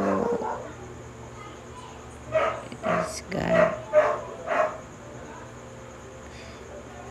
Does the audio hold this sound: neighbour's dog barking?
yes